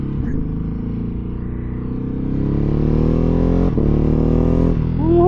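A Ducati motorcycle engine drones loud and close as it accelerates, with rising revs and a brief dip where a quick-shifter gear change cuts in before the pitch climbs again.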